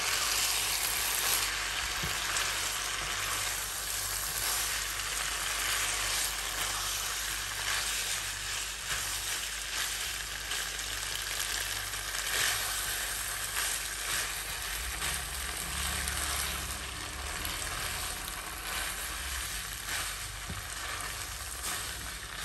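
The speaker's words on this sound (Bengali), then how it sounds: "এখন ভালোভাবে সবগুলো উপকরণ মিক্স করে নিব।" Spaghetti and ingredients sizzling steadily in a hot frying pan while being stirred, a continuous close crackling hiss with occasional scraping, no voices.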